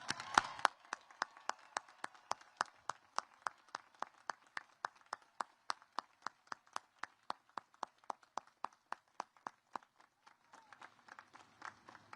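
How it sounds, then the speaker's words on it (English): Audience at the U.S. Coast Guard Academy graduation clapping for international cadets, heard as a steady rhythmic beat of single claps in unison, faint and distant, fading out near the end. "Please join me in a heartfelt round of applause"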